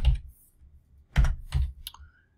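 A few soft keyboard taps in quick succession, close and dry, with short gaps between them and no voices.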